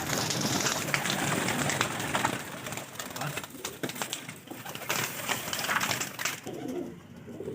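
Migratory pigeons kept by a pigeon fancier coo repeatedly, close by, over a busy, steady background of rustling and general noise, with no speech in the foreground.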